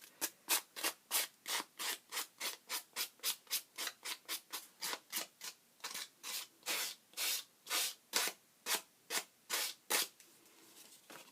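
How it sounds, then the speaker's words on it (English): Sandpaper is rubbed over the torn white paper edges of a handmade journal in quick, rhythmic strokes, about two per second, close and crisp, pausing briefly near the end. "take some sandpaper and kind of get it off"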